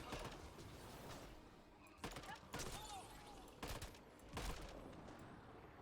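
Gunfire in the sci-fi shooter Mass Effect Andromeda: several sharp bursts of shots crack out at irregular intervals over a quiet background of game ambience.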